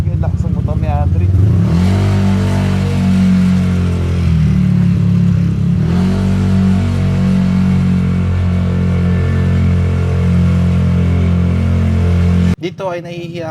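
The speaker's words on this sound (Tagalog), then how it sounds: "nahihiya nga ako i-rev masyado yung motor dahil nga sobrang lakas talaga" A Honda ADV 160 scooter engine revs loud and steady at close range, a sustained drone that swells and holds for most of the stretch before cutting off abruptly near the end.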